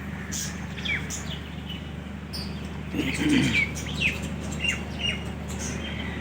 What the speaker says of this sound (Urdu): یہ اچھے قسم کے کبوتر ہیں، نیچے مرغیاں ہیں